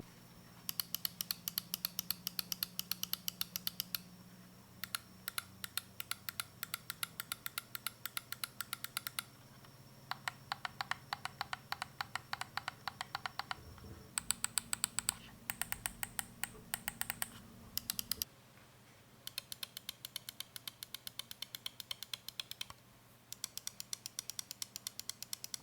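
Razer Cobra and Razer Viper computer mouse buttons clicked in fast, close, crisp bursts of rapid clicks separated by brief pauses, no talk.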